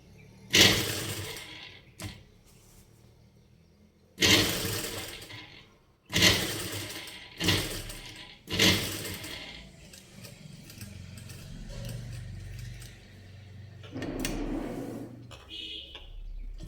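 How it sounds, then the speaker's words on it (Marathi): A sewing machine stitches a Y-cut top, running in several short bursts of loud whirring separated by pauses, with quieter handling sounds in between. "हे सेंटरपासून परत आपण कॅनव्हासच्या बाजूला शिलाई मारून घ्यायची"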